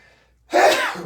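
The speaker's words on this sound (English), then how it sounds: "I don't sneeze unless I come in here." A single loud sneeze bursts out after a brief quiet moment, close and forceful.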